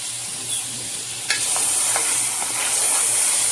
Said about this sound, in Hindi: ये मसाला इसमें डालना है और अच्छी तरह मिक्स करना है।